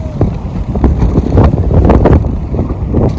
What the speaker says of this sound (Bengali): হাওয়া হচ্ছে কিন্তু প্রচন্ড আজ, প্রচন্ড হাওয়া।